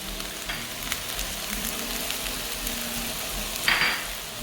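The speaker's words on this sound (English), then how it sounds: "Give the onions a good stir, then add the salt." Onions fry and get stirred in a pan, giving a steady close sizzle with soft scraping strokes and a brief sharper clink of a utensil near the end.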